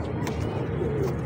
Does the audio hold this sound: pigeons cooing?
yes